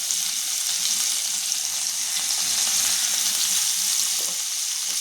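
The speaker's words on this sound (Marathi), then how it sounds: "आता आपण लाल मिरच्या घालत आहोत आणि थोड्या हिरव्या मिरच्या पण घालत आहोत आणि ही आलं लसूण पेस्ट पण आहे ती पण घालतोय" Red and green chillies with ginger-garlic paste frying in hot oil, a steady, loud, continuous sizzle throughout with no talking.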